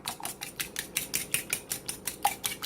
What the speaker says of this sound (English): just whisk that together.